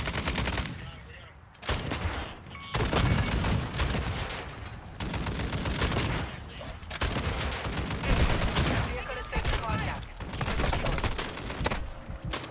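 Sustained automatic gunfire from the video game Call of Duty Warzone, loud and dense with rapid bursts and short pauses, close up and continuous across the stretch.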